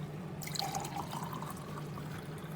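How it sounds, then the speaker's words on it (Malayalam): A chilled welcome drink trickles and splashes softly into a serving glass, a faint pour heard alone against low background hiss. "ഇതിനെ നമുക്ക് സെർവിങ് ഗ്ലാസ്സിലോട്ട് ഒഴിക്കാം."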